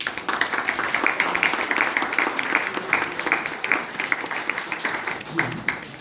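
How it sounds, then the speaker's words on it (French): Applause from a gathered audience at an anti-racism assembly in Switzerland, a steady patter of many hands clapping at moderate loudness throughout, with faint voices mixed in. "Pour tous ces collectifs, un applaudissement serait bienvenu."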